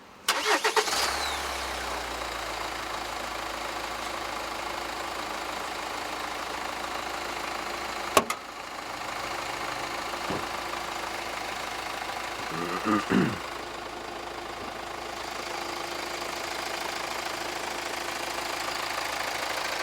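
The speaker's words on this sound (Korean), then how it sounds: "자, 시동 한번 걸게요." A 2013 Hyundai Santa Fe DM diesel cranks and catches near the start, then settles into a steady, clattering idle that runs on throughout, with a few brief knocks and bumps partway through.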